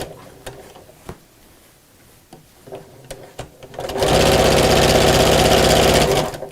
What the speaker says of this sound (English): even on a powerful machine, I'm going to just take that easy as I go over a very thick lump